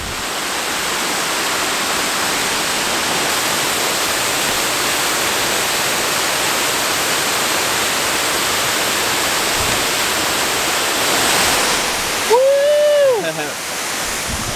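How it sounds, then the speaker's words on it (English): A waterfall roars as a steady, loud broadband rush that fills the whole stretch, with a brief louder swell and whistling tone near the end. "I've been to this waterfall like I don't know how many times."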